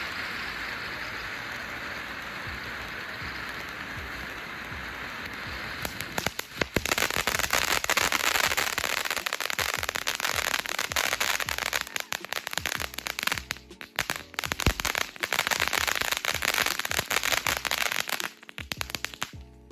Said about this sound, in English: We have Bottle of Sparks, which is a great deal this year with really strong crackle.